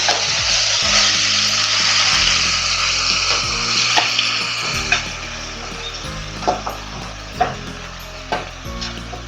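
Chicken frying with fennel seeds in a pan, a loud close sizzle that settles as a spoon scrapes and knocks against the pan in uneven strokes, no talking.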